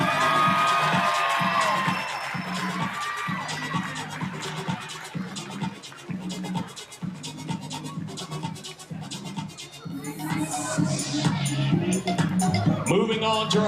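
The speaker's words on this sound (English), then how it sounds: "put your hands together, keep the applause going for the 11-year-olds from Meridian" A crowd at a Babe Ruth All Stars youth baseball opening ceremony applauds and cheers for an 11-year-old team from Meridian, Mississippi, with steady clapping and scattered whoops continuing at length in the open air.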